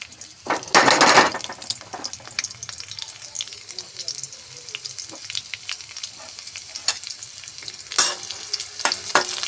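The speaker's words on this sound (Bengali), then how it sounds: "একটু ভাজা করে নিই।" Chopped garlic sizzles in hot oil with bay leaves and a dried red chilli, a strong hiss swelling as it is stirred and scraped around the pan, settling into a steady fry.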